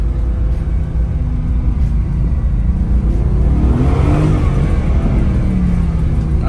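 A Mercedes-AMG GT S sports car with more than 500 horsepower accelerates hard, its loud engine rising steadily in pitch over a constant road roar, heard from inside with no talking.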